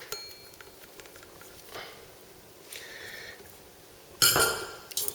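A dough hook pulled off a stand mixer bowl after kneading buttery bun dough, soft handling clinks and then a sharp metallic clatter near the end, close up and without talk.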